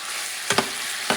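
Dry hot peppers hit a hot wok for Kung Pao chicken, giving a close, steady hiss of frying oil broken by two or three quick crackling bursts.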